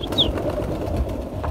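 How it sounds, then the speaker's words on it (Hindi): Pigeons on a rooftop loft give a brief soft coo and a faint flutter against steady outdoor background noise, with no talking. "आप अपने कबूतरों से मज़े वगैरह भी ले लेते हैं, उड़ाते हैं इन्हें ऊपर"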